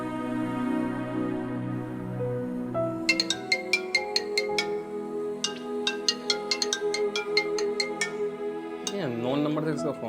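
A mobile phone ringtone plays a repeating bright melodic chime pattern, ringing steadily for several seconds over a low background hum; an incoming call from an unknown number.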